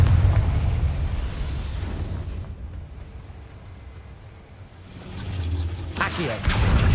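A Confringo fire spell explodes in Hogwarts Legacy with a loud rumbling burst, fading to a low roar, then a second sharp blast near the end.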